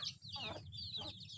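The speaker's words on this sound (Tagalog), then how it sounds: "pagmamasdan nyo ang ating mga alagang manok" Chickens raised on a small farm cluck in short, close, repeated bursts, a few sharp calls spaced by brief pauses over a low background hum.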